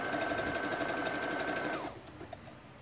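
A sewing machine stitches tulle fabric decorated with crystal droplets, running in one fast, steady whir with a high mechanical tone, then stopping abruptly and leaving quiet handling noise.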